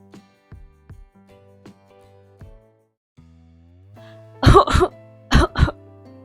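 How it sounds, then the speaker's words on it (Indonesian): Two pairs of sharp, close coughs come near the end, following quiet plucked piano-like notes that play softly at the start. "terbatuk-batuk begitu bangun tidur"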